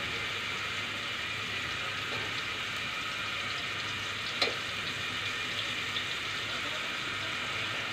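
Garlic paste sizzles in hot oil in a pan for a pumpkin and prawn dish. The frying hiss is steady and broadband throughout, with one faint clink partway in and no voices.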